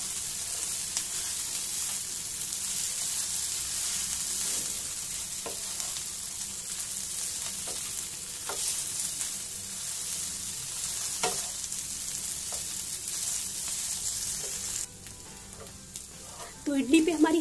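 Masala idli pieces fry in a pan with a quarter teaspoon of salt, giving a loud, steady sizzle that runs throughout. Occasional light stirring scrapes cut through, and a closer clatter of handling comes at the end.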